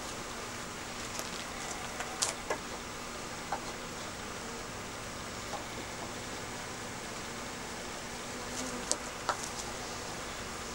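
Honey bees hum steadily around a Slovenian AZ hive during oxalic acid vapor treatment, a dense continuous buzz broken by a few faint knocks and clicks.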